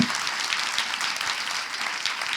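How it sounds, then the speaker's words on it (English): Applause from the audience at a closing session of a project meeting, a continuous, even patter of many people clapping with no voices over it. "a round of applause also for our final panel"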